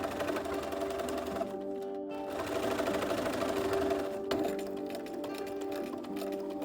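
Close, continuous rapid clatter of a sewing machine stitching a dart seam, its motor humming steadily under the ticking needle for several seconds with only a brief dip.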